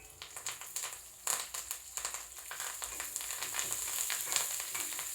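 Curry leaves frying in hot oil with chana dal and urad dal make a close, crackling sizzle. Sharp pops and spits burst in after a quieter start, then settle into dense, continuous frying.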